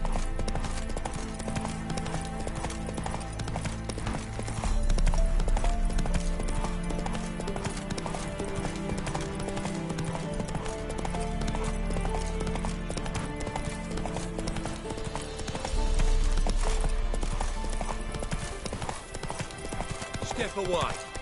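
Hoofbeats of a horse galloping in The Witcher 3 video game, a steady clip-clop running under loud, dense orchestral music, with voices heard at points.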